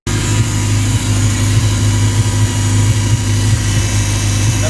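The engine of a 1983 Porsche 944 runs at a steady idle just after starting, a loud, close, low rumble with an even hum throughout.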